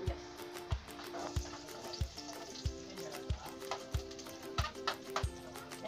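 Chopped onion sizzles steadily in hot oil in a pan, a close, continuous frying hiss with regular knocks of a utensil stirring against the pan.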